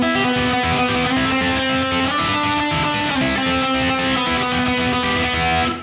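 A distorted electric guitar plays a fast hybrid-picked lick with the strings left unmuted, giving a dense, ringing, smeared wash of overlapping notes that holds steady and loud for several seconds.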